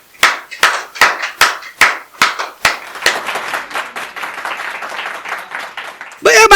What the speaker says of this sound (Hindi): बहुत जोरदार तालियों के साथ आशुतोष जी को आमंत्रित करिए